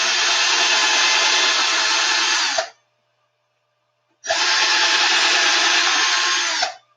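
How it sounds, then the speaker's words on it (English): Power drill driving screws into wooden strips of a homemade stained and stenciled sign, two loud sustained whirring bursts of about two and a half seconds each, close up, with a short silent pause between them and no talking. "I am going to start drilling."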